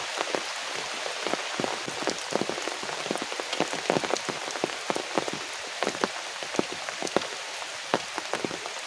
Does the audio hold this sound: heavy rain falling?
yes